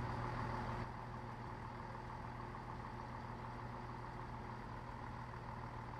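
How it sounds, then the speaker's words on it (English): Steady diesel engine drone from a Class 170 DMU in Train Simulator 2015, a constant low idling rumble heard alone at moderate level, slightly louder in the first second. "Listen to that diesel engine."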